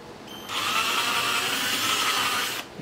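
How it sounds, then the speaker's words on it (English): A power drill whines steadily for about two seconds as it bores oversized holes in an Epiphone EB-0 bass guitar, starting and stopping abruptly. "I should probably drill these oversized."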